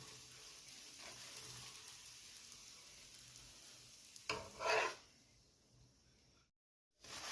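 A mooli paratha roasts in a pan over low flame with a soft, steady sizzle, interrupted by a brief louder scrape before the sound drops out.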